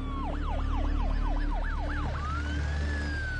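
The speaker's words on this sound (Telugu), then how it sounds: "ఇటువైపు నుంచి అంబులెన్స్ వెళ్తుంది" An ambulance siren wails loud and near in a movie accident scene, rising and falling in a rapid repeating sweep, then shifting to a long steady tone as it passes over a low traffic rumble.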